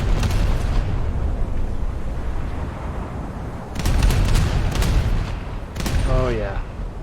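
Salvos of 8-inch naval guns boom from a warship in a naval combat game, two heavy bursts after a long rumbling stretch, loud and close, with someone talking briefly over the din.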